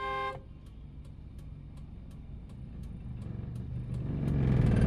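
A car engine idles low while the clutch is slowly released on an incline. A steady rumble builds in loudness and roughness toward the end as the engine takes load, with a regular faint ticking over it.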